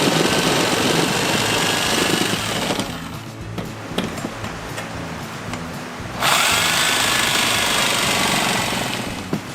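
A power tool cuts through a Portafloor Max flooring panel for a greenhouse floor. A loud, steady whine runs for about three seconds, drops to quieter handling noise, then returns strong for the last few seconds.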